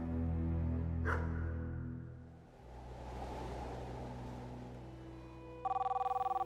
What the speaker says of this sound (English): Natalia's phone started to ring